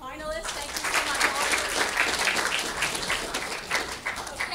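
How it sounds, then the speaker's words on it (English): An audience at a public speaking contest gives a round of applause for the finalists: dense, continuous clapping from a sizable crowd, loud and sustained throughout, with voices faintly mixed beneath it. "a round of applause really for all of our 9 and 10 finalists"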